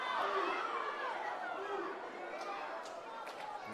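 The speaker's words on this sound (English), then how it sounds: "hear those Tongan fans in the background cheering on their team" Tongan rugby supporters cheer at the 2018 Commonwealth Championships grand final against Australia, a steady crowd roar of chatter and shouts filling the background under a commentator's voice.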